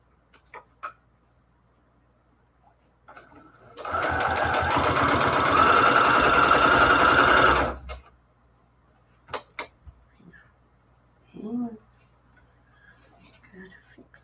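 Sewing machine stitching a patchwork junk journal cover for Valentine's Day, a steady loud whir running about four seconds on its own, with brief handling clicks and soft knocks before and after.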